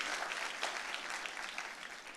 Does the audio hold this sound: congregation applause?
yes